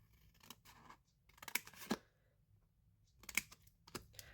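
Scissors cutting through a papercraft advent calendar box section, a few short crisp snips in separate bursts, close and fairly quiet with no talking.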